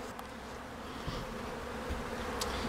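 Honeybees buzzing around an open hive as it is split, a steady close swarm hum with occasional louder passes of individual bees near the hive.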